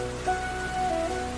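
Heavy rain pours steadily in a brief, even wash of sound with no voices over it.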